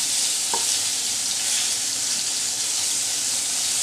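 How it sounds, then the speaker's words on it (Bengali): Whole loitta fish frying in oil while being stirred, a loud steady sizzle that fills the whole stretch with one brief clink near the start. "আমি ভালো করে নাড়াচাড়া দিয়ে বেজে নিচ্ছি"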